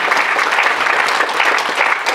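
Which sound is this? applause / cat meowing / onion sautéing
applause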